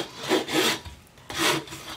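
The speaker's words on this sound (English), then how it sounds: "I'm just going to use my little sanding block that I have from Dollar Tree." Small sanding block rasping back and forth across a painted wooden memo board, two broad scrubbing passes up close, each strong and hissy with a brief lull between, no talk.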